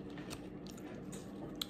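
Golden fried onion rings bitten and chewed close to the mic, soft crunches and squishy chewing with a few sharp bites, quiet overall.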